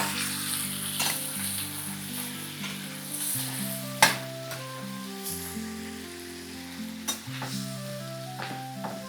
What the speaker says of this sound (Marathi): कांदा थोडासा परतून झाला की आपल्याला त्यामध्ये टोमॅटो टाकून घ्यायचे